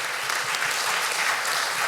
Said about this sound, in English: So let's give God a round of applause.